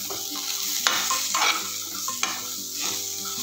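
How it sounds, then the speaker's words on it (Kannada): Grated coconut and green chilies roast in a pan with a steady sizzle, while a spoon stirs and scrapes against the metal in a few close, distinct strokes. "ತೆಂಗಿನಕಾಯಿ ಜೊತೆನೇ ಹಸಿಮೆಣಸಿನ್ಕಾಯಿ ನೋಡಿ, ಹಸಿಮೆಣಸಿನ್ಕಾಯಿನೂ ಹಾಕ್ಬಿಡಿ, ಅದರ ಜೊತೆನೇ ರೋಸ್ಟ್ ಮಾಡಿ"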